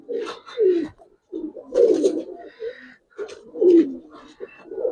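Giribaz pigeons coo in repeated low, throaty bursts close by, several rolling coos separated by short pauses, with faint background noise between them.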